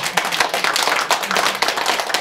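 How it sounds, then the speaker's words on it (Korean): A church congregation claps together during a sermon, with steady, dense applause at a fairly loud level and no voices over it. "우리 정말 잘해서 박수를 주세요"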